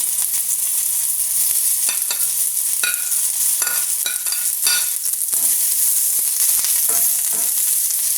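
Chopped onions frying in vegetable oil in a pan, a loud, steady sizzle with occasional stirring scrapes running throughout.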